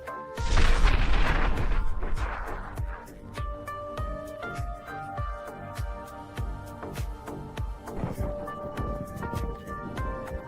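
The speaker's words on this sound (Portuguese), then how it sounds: "Enquanto recuam, o tanque explode nas minas." A tank explodes on mines during combat, opening with a heavy blast and crackling burst, followed by a long series of sharp detonations and popping impacts at a steady, irregular pace, with faint talk underneath.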